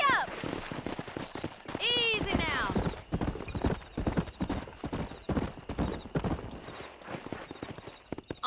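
A horse gallops in the Red Dead Redemption video game, its hooves beating a quick, rhythmic clip-clop close by, with a whinny early on and voices talking over the ride.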